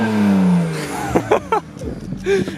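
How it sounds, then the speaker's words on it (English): A BMW 335i with an N55 engine and a quiet exhaust revs at close range, a low droning rise followed by a few short throttle blips, with voices talking nearby. "Listen to how quiet my car is"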